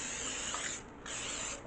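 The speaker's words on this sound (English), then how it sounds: "Spray my Springform pan with some cooking spray" Cooking spray hissing into a springform pan in two loud close bursts, a long spray then a short pause and a second spray, with no talking.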